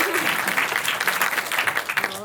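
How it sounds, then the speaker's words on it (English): Brief applause rises from an audience after a screening of Frankenstein, a short burst of many clapping hands with a voice starting to speak as it tails off. "can we get like a little clap"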